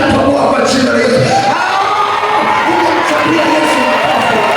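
A church congregation at a night service claps and cheers for Jesus, a loud, dense wash of applause mixed with shouts and whoops filling the space throughout.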